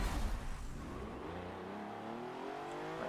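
Race car engine from the video game Forza Motorsport 7 revving steadily, a loud continuous whine rising in pitch over three seconds with no talk.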